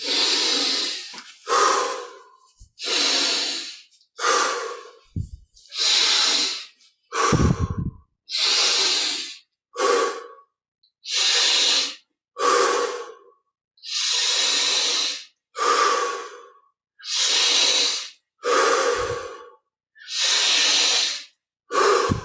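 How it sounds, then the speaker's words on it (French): Deep, slow breaths during a yoga and chanting meditation session come close and steady, each inhale and exhale a clear airy hiss separated by short silences, repeating about a dozen times. "On augmente petit à petit l'amplitude des respirations."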